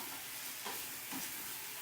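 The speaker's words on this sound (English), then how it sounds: "Just let you sit and simmer." Sauce seasoned with a little garlic salt simmering quietly in a pan, a soft steady hiss and faint bubbling with a couple of gentle stirring scrapes, low and close.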